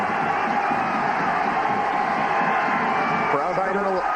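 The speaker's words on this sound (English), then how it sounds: "Crowd coming alive here at Standby Stadium" Dense stadium crowd noise swells continuously at a 1999 NCAA Division I-AA playoff semifinal football game, Florida A&M vs Youngstown State, at Standby Stadium, with voices mixed into the steady roar.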